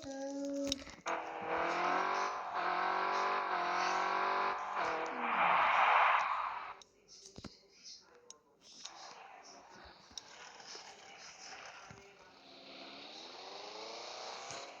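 A car rounds a corner, its engine droning steadily and then surging, with a burst of noise before it drops to a quieter run and builds again, close by as people talk over it.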